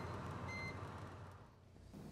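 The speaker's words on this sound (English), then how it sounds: "the control's green LED will blink and the control will beep" A cleaning machine's control unit beeps at the end of its cleaning cycle, a short steady electronic tone heard once against a loud constant machine hum, with no talking.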